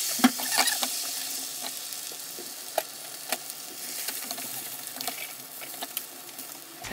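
Egg roll sizzling in a frying pan made from six eggs, steady crackle of frying with scraping and light clacks as two spatulas push and roll it, close and without talk.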